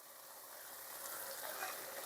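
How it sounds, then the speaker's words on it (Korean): Radish-greens namul being stirred with perilla powder and minced green onion in a simmering pot gives a soft, steady sizzle and bubbling hiss, close and fairly quiet, with no talk. "이렇게 섞어줍니다"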